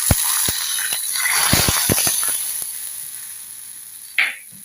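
Hot ghee tempering with curry leaves hits tomato rasam in a loud burst of sizzling, with sharp crackles and pops that fade to a soft hiss and end in a brief clatter.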